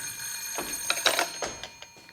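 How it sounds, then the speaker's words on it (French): A telephone rings in an apartment on the 37th floor, giving bright, bell-like bursts of ringing at moderate volume over about two seconds. "Ah, le téléphone."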